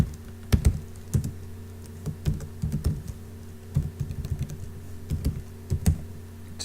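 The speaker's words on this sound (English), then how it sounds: "if you hit Control W on your keyboard" Keys on a computer keyboard being typed in short bursts, crisp close clicks and taps with brief pauses between groups, over a faint steady hum.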